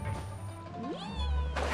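Cats in Genshin Impact let out several meows, with a rising and falling cry standing out clearly in the middle, over quiet game ambience and a low rumble near the end.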